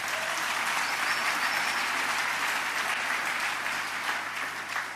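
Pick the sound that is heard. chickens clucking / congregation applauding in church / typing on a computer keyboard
congregation applauding in church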